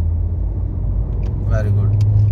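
A manual car accelerates during a driving lesson, its low engine drone rising slightly as it picks up, with an instructor speaking over it.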